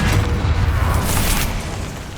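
A Bombarda blasting spell going off in Hogwarts Legacy, a loud, continuous booming explosion with a heavy low rumble that holds for about two seconds and fades slightly toward the end.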